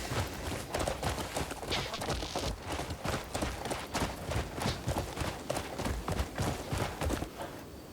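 Horse hooves gallop in the video game Crimson Desert, a fast steady clip-clop rhythm of heavy thuds that continues without a break, fairly close and even in loudness.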